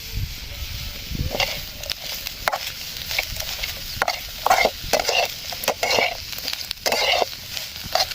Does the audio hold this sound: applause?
no